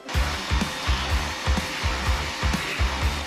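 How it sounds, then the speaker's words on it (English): A vacuum cleaner runs loud and close while cleaning out engine intake ports during a Coyote 5.0 swap, a steady roaring whir with a rhythmic pulsing in the low end. "I'm gonna vacuum this all out and maybe clean up these intake ports a little bit."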